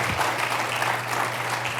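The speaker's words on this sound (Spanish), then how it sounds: "¿Quieres darle un aplauso al Señor?" A church congregation applauds in praise, giving a sustained, even patter of many hands clapping at moderate loudness, with a low steady hum beneath and no voices over it.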